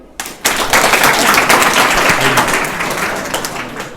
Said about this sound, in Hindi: तो मैम के लिए तालियां।